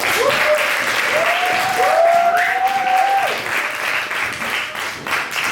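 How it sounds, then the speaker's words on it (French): Conference audience applauding as photographer artists come on stage at an exhibition talk, steady applause throughout with a voice speaking over it. "On peut les applaudir s'il vous plaît."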